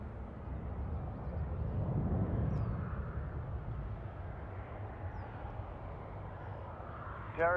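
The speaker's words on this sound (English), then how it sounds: "Lufthansa A350 from Munich." A Lufthansa Airbus A350 jet from Munich at Toronto airport: a low, distant engine rumble that swells and then settles into a steady broad roar, faint and continuous.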